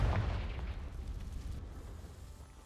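A Confringo fire spell bursts into an explosion in a Harry Potter–style wizard video game, a loud booming blast at the start that rumbles and slowly fades, with no voices.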